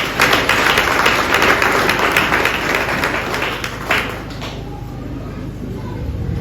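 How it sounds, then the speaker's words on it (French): A church congregation claps and applauds together, a loud dense wash of hand claps that fades after a few seconds into softer room noise. "On nous applaudit à la gloire de Dieu."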